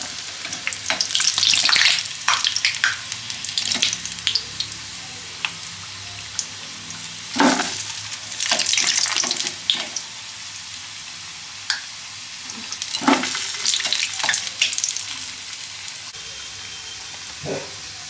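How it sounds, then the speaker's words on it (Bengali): Kabuli chickpea khasta kachori fry in hot oil with a steady crackling sizzle, rising in loud bursts as they are stirred or turned and easing between them, with occasional knocks of a utensil. "কচুরিটা আমার ভাজা হয়ে গেছে।"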